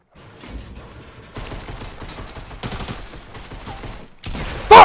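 Rapid bursts of gunfire crackle in a Fortnite Battle Royale match, several clustered volleys separated by short gaps and ending in one loud close blast; no talk over the shots.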